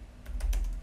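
Typing on a computer keyboard: a few quick, light key clicks close by, ending in a firmer press of the enter key, quiet and alone, with no talking.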